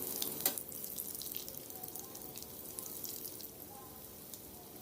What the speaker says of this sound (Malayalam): ഇപ്പം മുട്ട എല്ലാം ഒന്ന് ഫ്രൈ ആയി വന്നിട്ടുണ്ട്